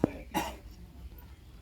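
A single close cough burst, then a second rougher cough a moment later, over a steady low room hum; a person with a lingering cough.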